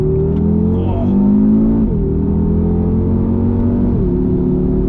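A 2020 Audi RS3 in manual mode pulls hard from inside the cabin, its engine note climbing steadily and dropping at two gear changes, loud and continuous with no talk over it.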